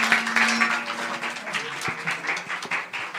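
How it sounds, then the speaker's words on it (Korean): Audience applause at a church youth retreat in Korea, a mixed patter of clapping at moderate level with a low hum and some faint voices underneath, lasting a few seconds. "큰 박수 보내주시고"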